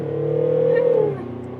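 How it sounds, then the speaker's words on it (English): A loud 2024 Mercedes V-Class V300d van engine drones at a high, steady pitch in sport mode, then drops off as the throttle eases. "it's quite loud from an engine, isn't it?"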